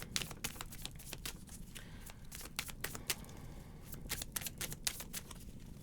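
Tarot cards being shuffled by hand, a run of crisp riffling snaps and soft papery slides in quick irregular bursts, close and clear with no talk.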